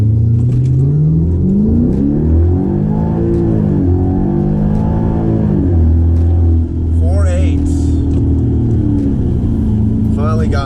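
A 2012 Hyundai Genesis 5.0 R-Spec with 140,000-plus miles launches hard from about 1,500 rpm, its V8 roaring loud and close as rising pitch sweeps break at each gear change, with voices over part of the run.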